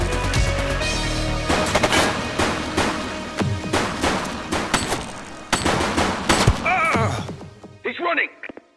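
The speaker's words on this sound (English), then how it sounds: "He's shooting!" Gunfire in the police game The Precinct: loud, close bursts of rapid shots and sharp cracks, with crashing impacts and shouting voices mixed in.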